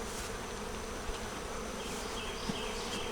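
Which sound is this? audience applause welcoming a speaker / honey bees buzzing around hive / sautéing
honey bees buzzing around hive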